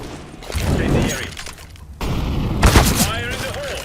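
A bomb explodes in an online shooter game, a sharp booming blast with shattering debris, loud and close, following a burst of gunfire while players talk over voice chat.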